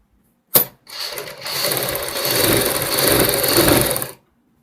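Close, loud run of a sewing machine joining the shoulder seam of a girls' top, back and front pieces stacked, starting with a sharp click and then buzzing steadily for about three seconds before stopping.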